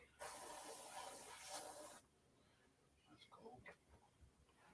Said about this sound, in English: it's a fucking air spray